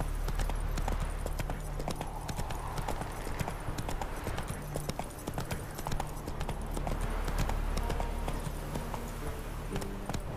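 Horse hooves clip-clop at a steady galloping rhythm throughout the open world of The Witcher 3, close and loud over continuous game music, with a faint whinny at moments.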